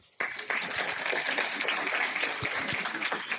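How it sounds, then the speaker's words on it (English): Audience applause after a children's quiz answer, a dense burst of clapping that starts sharply and holds steady at moderate loudness for a few seconds. "Everybody applause."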